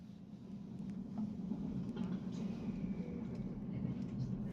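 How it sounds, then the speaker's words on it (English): A steady low rumble fills the interior of a moving passenger train in the early morning, a constant drone with faint higher rattles and no distinct events. "This sound is a recording made with the smartphone inside a train in the morning."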